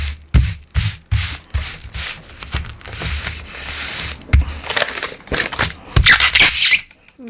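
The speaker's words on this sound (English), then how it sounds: "I'm just going to plonk that down sort of centrally and smooth it out" Hands smooth and rub glued paper flat on a junk journal page, making repeated close, dry rubbing and sanding-like strokes in an irregular rhythm with small squeaks and no talking.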